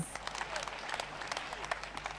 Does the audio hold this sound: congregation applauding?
yes